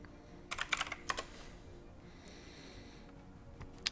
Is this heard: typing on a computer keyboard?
yes